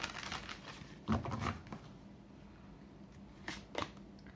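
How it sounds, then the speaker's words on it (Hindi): Tarot cards being shuffled by hand, a few soft riffling and slapping bursts spaced out over quiet, close and faint. "हम 3 कार्ड्स लेंगे। One more shuffle."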